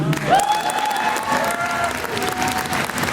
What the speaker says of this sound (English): I also want you to give them a round of applause